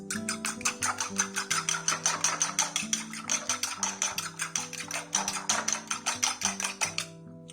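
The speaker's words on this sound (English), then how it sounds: "let's quickly whisk 2 eggs" Two eggs whisked in a bowl for an omelette pizza: rapid, regular clinking taps of the whisk against the bowl, close and continuous, over background music.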